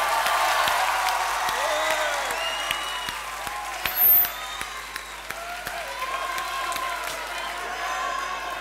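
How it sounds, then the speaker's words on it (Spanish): A live studio audience applauds for the guest Loulogio, a dense burst of clapping and crowd noise that thins out, with voices talking over it. "Va, aplauso para Loulogio."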